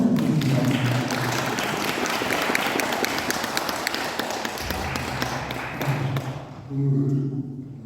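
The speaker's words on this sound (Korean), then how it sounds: "다시 한번 힘찬 박수 부탁드리겠습니다." Audience applause at a Korean book event, a loud, dense burst of clapping from a crowd that continues steadily before tapering off near the end.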